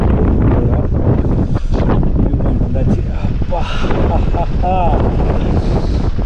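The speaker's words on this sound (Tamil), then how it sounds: "செம காற்று" Strong wind buffets the microphone at the Kodimettu viewpoint in Munnar, Kerala, a loud, constant low roar with gusts, while someone speaks briefly over it.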